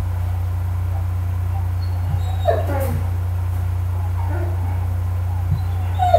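A dog whimpers and yips in short, high whining bursts over a steady low hum, with a few soft thumps in between.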